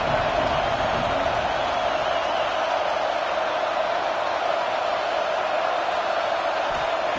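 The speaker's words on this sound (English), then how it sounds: "And here comes the noise. This crowd is trying to inspire this defense to make a big red zone stop." Stadium crowd noise from the NCAA 25 football video game rises as a steady, dense roar throughout, a constant wash of cheering at even loudness.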